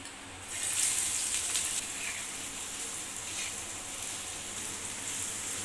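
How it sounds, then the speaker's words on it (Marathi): Onion sizzles while sautéing in hot oil with curry leaves for a masoor dal dish, a steady close frying hiss that flares louder early on and then settles into continuous crackle. "आता यामध्ये आपण प्रथम कांदा परतवून घेऊया"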